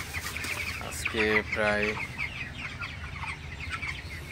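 Broiler chickens clucking on a farm, a couple of loud close clucks standing out over a constant murmur of the flock, with someone briefly speaking.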